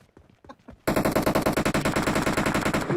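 Rapid automatic gunfire from the PUBG Mobile video game bursts in after a quiet moment with faint talk, a fast, even string of loud, close shots that keeps going for about two seconds.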